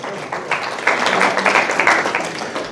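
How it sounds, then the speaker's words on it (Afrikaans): A church congregation claps together in steady, dense applause that fills the room for a few seconds, loud and close, with no speech over it. "Kom ons gee hande klap vir die Here."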